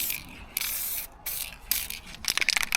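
Several hissing bursts of an aerosol spray can painting low-back bucket seats, close and fairly loud, separated by short pauses, ending with rapid rattling taps.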